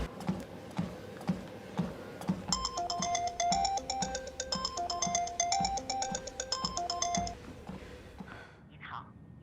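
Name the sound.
phone call tone before busy-line message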